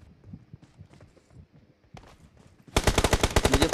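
Rapid automatic gunfire in PUBG Mobile erupts after quieter footsteps and shuffling, a loud burst of evenly spaced shots lasting about a second.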